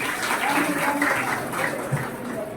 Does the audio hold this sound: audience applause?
yes